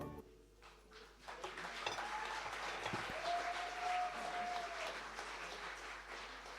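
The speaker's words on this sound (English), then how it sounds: "Good round of applause." An audience applauds at a Bihar State Foundation Day celebration, the clapping swelling after a quiet start and holding as a broad, steady wash while a sustained tone sounds within it.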